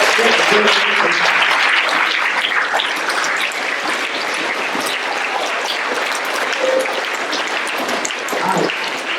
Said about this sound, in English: if you would give a round of applause to all of the adults who helped you to get good education